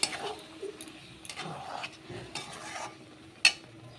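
Spice paste is stir-fried in a pan with a little water, with scraping and stirring strokes, soft sizzling and an occasional sharp clink of a spatula against metal. Nobody speaks.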